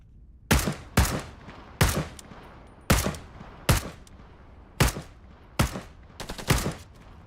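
Video game machine gun fire comes in sharp, loud bursts, about nine separate volleys spaced roughly half a second to a second apart, each a crisp crack with a short tail, with no talking.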